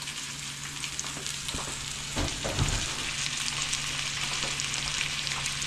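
Wild hog sausage fries in melted bacon fat, a steady dense sizzle with a brief stirring clatter partway through.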